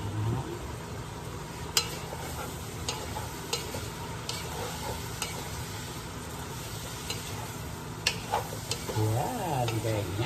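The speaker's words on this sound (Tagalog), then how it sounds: "Naggagata ako ng hipon." Shrimp simmering and stirred in coconut milk in a pan, a steady close sizzle and bubbling with occasional scraping clicks of a utensil throughout, no talk over it.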